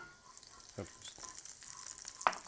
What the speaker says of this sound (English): I'm going to take a tablespoon of olive oil while the skillet is still hot, and then a tablespoon of butter